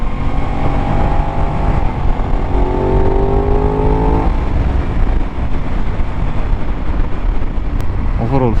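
A 2024 Aprilia RS660 Extrema sport motorcycle on a test ride, its engine droning steadily with rising gear-change whines, heavily buffeted by wind noise throughout and a brief rev at the very end.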